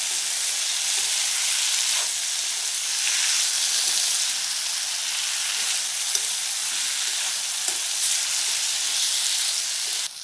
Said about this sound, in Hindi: हम टमाटरों को ऑयल सेपरेट होने तक भूनेंगे, कुक करेंगे, जब तक कि जो तेल है हमारा अलग नहीं हो जाता।